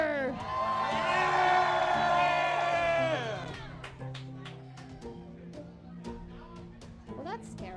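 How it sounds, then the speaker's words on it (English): A crowd cheers and whoops from an unseen stand, loud and swelling for about three seconds before fading under scattered sound effects and musical tones in a tabletop game setting. "And the cheering from an unseen crowd grows louder."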